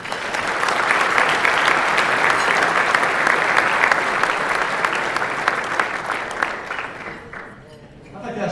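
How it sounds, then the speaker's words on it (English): An audience at a veterans dinner gives a sustained round of applause for sponsors General Dynamics and Lockheed Martin, steady and full before tapering off near the end as a voice begins. "Could we get a round of applause for General Dynamics and Lockheed Martin?"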